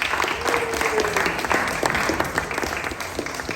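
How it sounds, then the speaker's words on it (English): A group at a state park and cavern tour breaks into a round of applause, a dense, moderately loud patter of claps with a brief voice near the start and scattered sharper claps throughout. "So give them a big round of applause."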